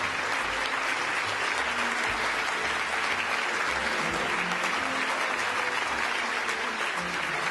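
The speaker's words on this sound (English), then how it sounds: "Big round of applause there for Oliver Tatton, the 2007 Emerging Entrepreneur of the Year." An audience applauds at an awards show, continuous even clapping heard from a distance at moderate level, with no voices over it.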